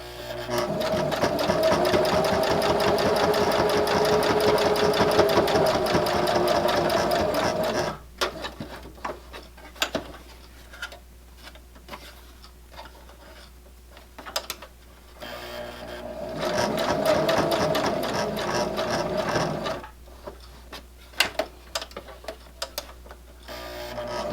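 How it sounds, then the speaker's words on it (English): Sewing machine running steadily as it top stitches around the edge of a fabric bookmark in contrasting thread, heard in two long close bursts of rapid stitching separated by a quieter pause with small handling clicks. "we're going to just stitch all the way around"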